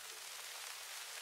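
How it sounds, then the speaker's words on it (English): Vinyl crackle ambient noise sample from a lo-fi sound pack, a steady, faint hiss of fine crackles and pops running continuously without any rhythm or talk. "It's called Vinyl Crackle."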